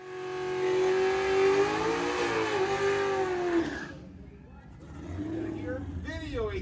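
A Holden drag car, sold as the Chevy SS with an LS-series V8, revs loudly with a rising engine note that cuts off, then a second engine sound builds under someone speaking.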